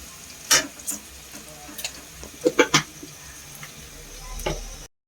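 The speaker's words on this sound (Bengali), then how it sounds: "ভালো করে নেড়ে নেওয়া হচ্ছে" A utensil stirs food in a pan, making scattered scrapes and clinks over a faint, low sizzle. Several close taps cluster near the middle, and the sound cuts off abruptly at the end.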